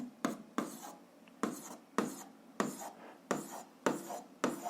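Chalk or marker strokes on a board while a physics problem is worked out, repeated short scraping strokes in an irregular rhythm, close and fairly quiet, with no talking.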